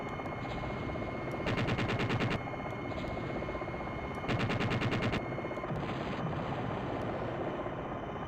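Jane's Longbow helicopter combat video game: a constant rotor drone runs throughout, cut by two long bursts of rapid machine-gun fire and a later duller blast.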